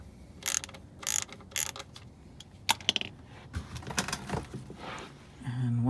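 A ratchet loosens the 14 mm oil drain plug on a 2014–2019 Toyota Corolla, producing several bursts of quick metallic clicking that are moderately close, with scraping handling noises between them.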